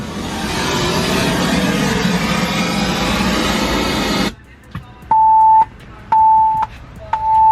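A loud engine roar inside a Ford F150 cuts off abruptly, then a Kicker key remote sounds three sustained electronic beeps, each lasting about half a second with short gaps, plus a few faint clicks between them.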